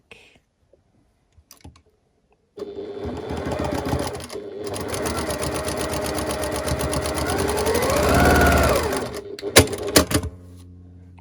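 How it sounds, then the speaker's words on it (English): A sewing machine stitches a quilt block seam from the back, starting after a few soft clicks and running in one steady, close mechanical whir for several seconds, rising slightly before stopping, followed by a few sharp clicks. "I'm going to stitch it from the back."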